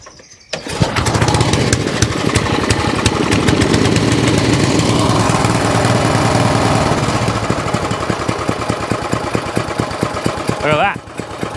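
A barn-find lawn mower with electric start and choke, stored for five years, fires up and runs steadily at close range, its loud rattling engine holding for about ten seconds before cutting back.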